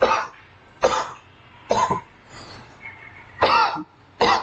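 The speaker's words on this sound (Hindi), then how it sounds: "मैं बस बहुत बोल रहा हूँ इसलिए मुझे खांसी हो रही है" A man coughs repeatedly in a quiet room, five or six short harsh bursts spaced roughly evenly, close to the microphone, with a faint throat-clearing quality.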